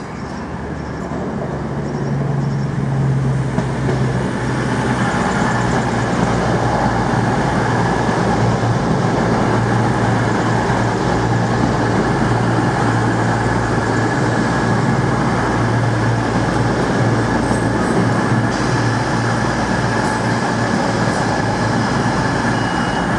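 A train at Coventry station, a loud steady rumble of carriages rolling through close by, with a faint squeal of wheels and no voices.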